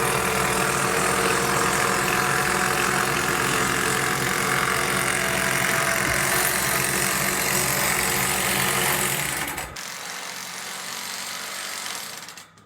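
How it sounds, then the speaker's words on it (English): Tractor engine idling near a ShelterLogic building setup, a loud steady mechanical drone with a dense knocking texture that cuts off abruptly near the end, leaving quieter background. "I'm gonna have to move the tractor"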